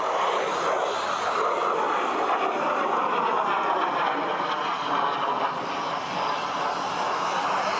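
An Alpha Jet, the twin-engine trainer long flown by the German air force, passes during a flying display at the ILA Berlin air show in 2018, its loud, steady engine roar slowly shifting in pitch as it crosses.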